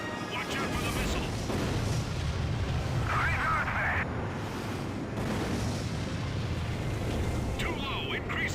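A satellite weapon blowing up in Ace Combat: Assault Horizon Legacy, a long rumbling roar of explosion and jet noise filling the whole stretch, with voices talking over it.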